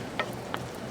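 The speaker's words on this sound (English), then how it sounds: "Let's stir this stuff up." Smoked queso dip being stirred in a pan on a Weber kettle grill, with two soft spoon scrapes against a continuous low sizzle over close, steady background noise.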